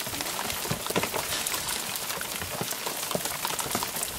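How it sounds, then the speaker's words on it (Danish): Heavy downpour in the Alps, a dense, steady roar of rain pattering on surfaces with scattered louder drops, continuous and close throughout with no voices. "Styrtregn."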